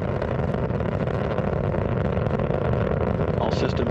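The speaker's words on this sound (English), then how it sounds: "Engines throttling down as Atlantis prepares to maneuver through the area of maximum dynamic pressure on the vehicle in the lower atmosphere" Space Shuttle Atlantis launch engines roar in a dense, continuous rumble, steady and loud without a break from start to finish.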